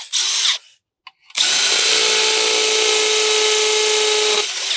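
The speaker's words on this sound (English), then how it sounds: "go round and pilot all the other holes and then drill those out" A power drill whines in two bursts while drilling holes in brickwork, a short one then a longer sustained grinding run, loud and close, with no talking.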